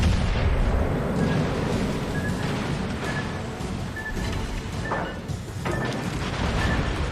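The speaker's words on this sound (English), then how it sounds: "that might be the nastiest salvo a Gasconia has ever gotten" A battleship main gun salvo in the naval combat game World of Warships Legends, a dense rumbling roar of heavy gunfire and booms sustained throughout, loud and close with no pauses.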